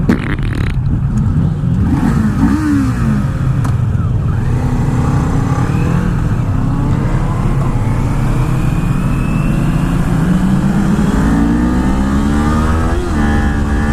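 A 2019 Kawasaki Z400 motorcycle engine revs loud and close throughout, with rising and falling pitch sweeps as the slipping clutch lets revs flare before short upshifts, under steady wind and road roar.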